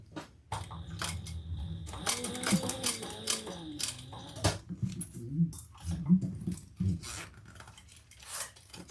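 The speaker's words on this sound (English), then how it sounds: "And top stitch around the zipper." A sewing machine topstitches around a zipper on a bag, running in short bursts with a soft whirring hum, interrupted by clicks, clatter and handling noises up close.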